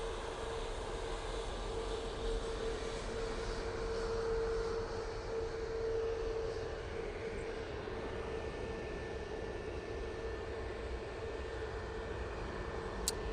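An easyJet airliner at Manchester Airport produces a faint, distant, steady jet rumble with a thin whine, heard alone from afar.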